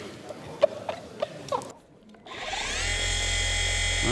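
A FLEX PXE 80 10.8-EC cordless polisher starts after a few light handling knocks and a brief pause, then runs at a steady high whine with a low hum.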